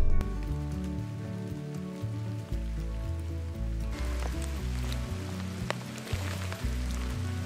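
Rain falls at a campsite, with a steady hiss of drops and occasional sharper taps under prominent background music.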